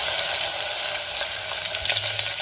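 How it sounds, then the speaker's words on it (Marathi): Ground masala paste sautés in hot oil for chole masala, a dense and constant close sizzle with soft stirring scrapes running through the short stretch, no voices present. "वाटण तेल सुटेपर्यंत परतून घेणार मी"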